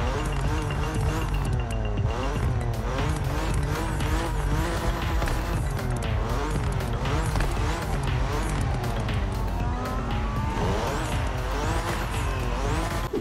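A BMW M4 in the racing game Motorfest roars loudly and continuously, its engine note climbing and falling through repeated revs and gear changes, with bursts of tire squeal mixed in.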